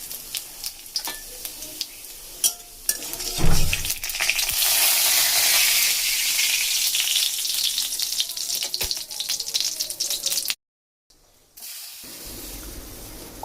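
Cumin seeds sizzling in hot oil at the start of a red spinach dish, a loud close hiss rising into a sustained crackle with a brief dropout near the end, no talking.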